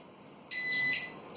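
A Rolson 3 in 1 stud, metal and voltage detector gives a single sharp electronic beep of under half a second, loud and close against a quiet background.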